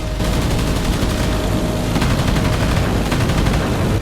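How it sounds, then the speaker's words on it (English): Machine guns fire rapid bursts at a Heinkel bomber, a dense rattling fusillade that keeps up loud and close, with short pulsing volleys layered over a rough rumble. "Dupee fired short bursts into the Heinkel, scoring some hits along the fuselage and wing roots."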